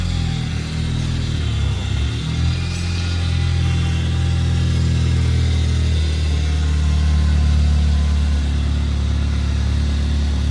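A 2G DSM Mitsubishi Eclipse GSX engine running steadily with a loud, droning exhaust in need of repair, close and continuous with a deep low rumble and no talking.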